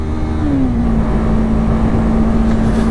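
Yamaha R3 motorcycle engine held at a steady loud rev, a sustained buzzing drone whose pitch climbs briefly then holds constant, close and alone with no talk.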